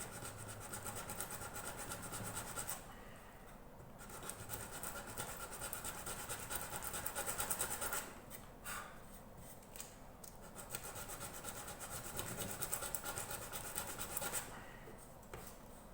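Coarse 80 grit sandpaper rubs back and forth on the wood of a mountain dulcimer, steady scratchy strokes close up with a few short pauses between passes.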